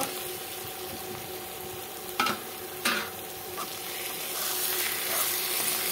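Tomatoes frying in hot oil with cooked-down spices for a katla fish, tomato and potato curry, a steady soft sizzle with a few brief clatters of stirring.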